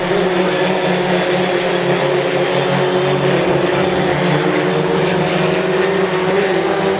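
A historic Formula Ford race car engine drones loud and steady on track at Croft during a 2016 heat, a constant close-up roar with no pauses and no voices.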